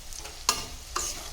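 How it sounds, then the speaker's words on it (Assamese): Vegetable bhaji sizzling in a pan while being stirred, with two quick, close scraping strokes over a soft, steady frying crackle. "মই এইফালে বনাই আছোঁ ভাজি"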